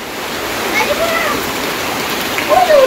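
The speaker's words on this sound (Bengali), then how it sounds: "বৃষ্টি নেমে গেছে।" Rain falls steadily in a village, a loud, dense, even hiss of drops hitting surfaces, with a faint voice or bird-like tone briefly emerging beneath it.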